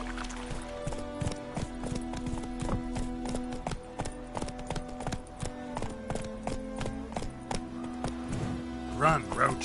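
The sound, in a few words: horse Roach galloping in video game The Witcher 3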